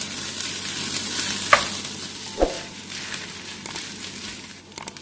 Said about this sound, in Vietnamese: Và tiếp đến thì mình chiên cơm nhá, thì mình cho 2 muỗng dầu vào nè, và mình cho cơm vào luôn nè